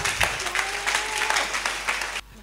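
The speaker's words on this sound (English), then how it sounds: "Clap your hand for Jesus Christ" A church congregation at a deliverance service claps together for Jesus Christ, a brisk rhythmic burst with a sung or called line faintly over it, stopping abruptly after about two seconds.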